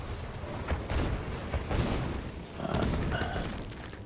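Cannons firing in a real-time strategy game match, with dense rumbling booms and thuds layered continuously throughout, loud and busy with battle noise.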